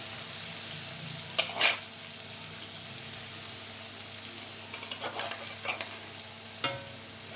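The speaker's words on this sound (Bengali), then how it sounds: "চিংড়ি মাছগুলো আমি হলুদ লবণ মাথায় নিচ্ছি মাছগুলো হালকা ভেজে নেবো" Shrimp coated with turmeric and salt fry in olive oil, a steady close sizzle with a few louder spatters and occasional soft scrapes of turning in the pan.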